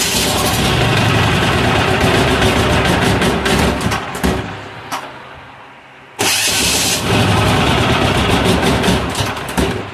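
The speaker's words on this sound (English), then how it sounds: "Let's turn on the diesel again." A 186FA single-cylinder diesel engine running on used synthetic engine oil cranks and starts, then clatters loudly at close range. It dies briefly midway and then restarts and runs hard again.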